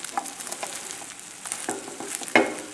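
A ricotta, cream cheese and bacon omelette fries in a pan just after being flipped. Soft sizzling runs under scattered utensil scrapes and clicks, with a sharper scrape near the end and no voices.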